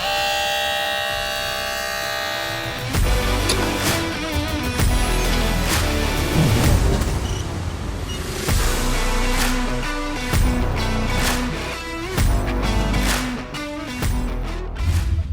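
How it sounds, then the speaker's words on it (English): Firefighters' hydraulic rescue cutter and spreader working on a car during a roof removal demonstration, a loud, steady whining hydraulic drone with shifting pitch and repeated metallic cracks and pops running for the whole stretch, close by and alone. "and this is the spreader."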